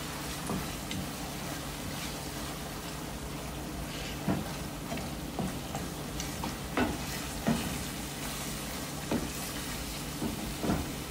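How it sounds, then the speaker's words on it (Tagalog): Chili garlic frying in a pan while being stirred, a soft steady sizzle with occasional scraping clicks of the utensil against the pan, fairly quiet and close, with no talking. "haluin pa natin siya."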